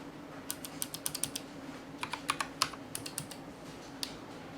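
Keystrokes on a GMMK3 mechanical computer keyboard, bursts of crisp clicky taps in two quick flurries with a lone final press, close and fairly quiet over a low steady hum.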